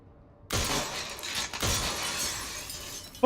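Glass shatters in the video game Resident Evil, two loud sharp crashes about a second apart with a ringing tail of scattered shards after each one.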